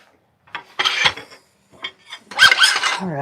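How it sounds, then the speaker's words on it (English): Hand sanding of a wooden piece being shaped before a finial is turned, with short rasping strokes in three bursts separated by pauses, close and fairly loud. "Now let's get a little bit more sanding in"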